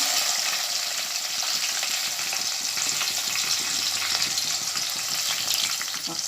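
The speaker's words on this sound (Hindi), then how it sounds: "राई और जीरा डालूंगी। अब इसमें प्याज डालूंगी" Chopped onion fries with mustard seeds, cumin and curry leaves in hot oil for rawa upma. A loud, steady sizzle and crackle runs throughout with no voices.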